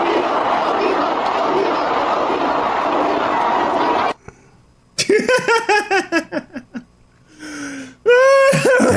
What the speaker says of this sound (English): Toronto crowd was shouting OV host